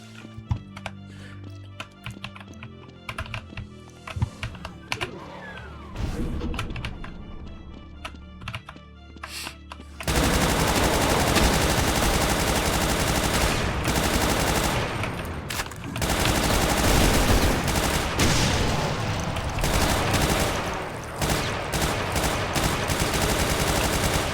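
Rapid gunfire from a weapon in the video game Brutal Doom, quieter and sparse at first, then a loud, dense burst of continuous shooting and impacts that dominates the rest of the stretch.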